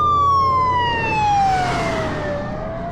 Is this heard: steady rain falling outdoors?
no